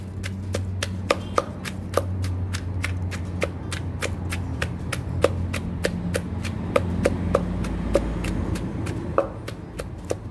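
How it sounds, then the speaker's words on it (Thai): Shallots and green chilies pounded in a mortar with a pestle: a steady run of sharp, close knocks about twice a second, alone with no talk. "โคลกทุกอย่างให้ละเอียดดีเลยค่ะ"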